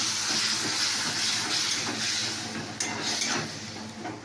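Spices and a fried ginger-garlic-onion paste hit a hot pan, giving a steady close hiss that eases slightly toward the end, with a brief clatter near the end and no voices.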